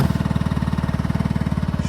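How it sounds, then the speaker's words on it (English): Icebear Trifect 150cc GY6 scooter engine running at idle, a steady rapid thumping pulse of the small single-cylinder motor, close and fairly loud, with no talk. "And then we'll start it up real quick."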